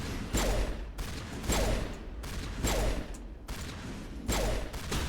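Pistol fire in the video game Mass Effect, a series of four or five heavy single shots spaced about a second apart, each with a booming tail, no speech.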